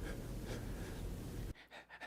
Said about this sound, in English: Listen to him breathing.